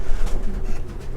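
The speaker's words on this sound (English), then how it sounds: "That's a pretty cockbird there." Racing pigeon cock bird, a 300-mile race winner, cooing in a loft, soft low repeated coos close by over a steady background rumble, with no talking.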